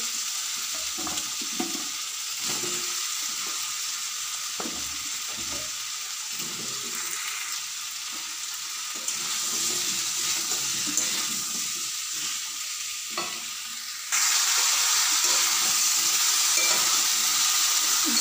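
Ridge gourd and potato pieces frying with spices in a pan, a steady loud sizzle throughout with occasional stirring scrapes, growing noticeably louder and brighter near the end.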